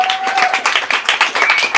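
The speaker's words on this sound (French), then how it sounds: "Merci, vous pouvez vous auto-applaudir" Live audience at a public debate hall clapping for themselves, a dense, steady patter of many hands lasting a couple of seconds, close and fairly loud with no talk.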